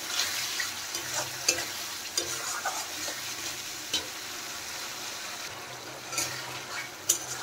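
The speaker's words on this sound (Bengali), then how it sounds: "টক দই দেওয়ার পরে আরেকটু কষিয়ে নেব" Spice masala being sautéed in a pan after sour yogurt is added, a steady bubbling sizzle with repeated scraping stirs and occasional spatula clinks, close by.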